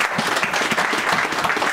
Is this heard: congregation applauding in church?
yes